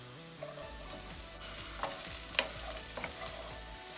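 Brussels sprouts and shallot fry in bacon drippings in a pan and get stirred, a steady close sizzle broken by soft scraping and a few sharp pops.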